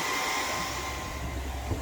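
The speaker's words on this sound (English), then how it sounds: "I'm blow drying it." A hair dryer blows steadily in a cold, wet room, a continuous close whoosh that holds at an even level for the whole moment.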